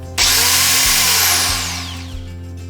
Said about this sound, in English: Then I cut polycarbonate with a grinder.